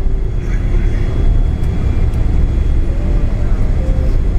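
Thai Airways Boeing 777 slowing on the runway after landing, heard from inside the economy cabin as a loud, steady low rumble of engines and rolling wheels.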